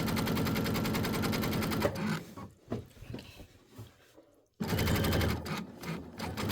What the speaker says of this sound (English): This is just my basting stitch, so it doesn't have to be perfect.